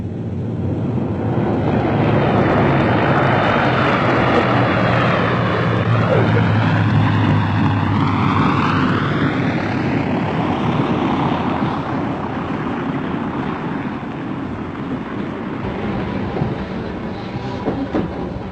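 A loud, steady propeller airplane engine drone rumbles throughout, with a rising and falling whine partway through as the plane passes close by.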